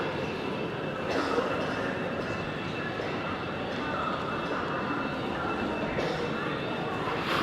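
Sleeper train travelling through China toward Tibet, a continuous rumbling rattle of the carriage in motion heard from inside, steady and fairly loud throughout.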